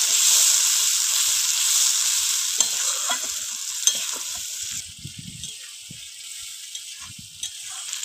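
Spice paste of ground coriander and masala with a little water frying in oil for a lote fish curry, a steady sizzle and hiss with intermittent scraping and stirring taps of a spatula in the pan, close and alone.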